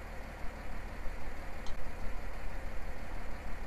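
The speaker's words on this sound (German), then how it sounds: "Motor starten." A tractor engine in the video game Farming Simulator 19 turns over and settles into a steady, mid-pitched idle with a light, uneven chug, heard alone and fairly close.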